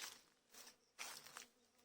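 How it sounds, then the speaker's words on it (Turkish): Faint buzzing of honey bees coming and going in short swells around flowering Fuerte avocado trees, quiet outdoor background with no talking. "Arılar da var. Bal arıları."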